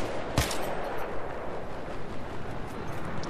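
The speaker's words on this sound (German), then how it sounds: "ich schieß doch gerade zu auf ihn" Gunfire in a Battlefield 3 multiplayer match, with one sharp close shot near the start followed by a dense, crackling wash of distant shots and battle noise, fairly quiet overall.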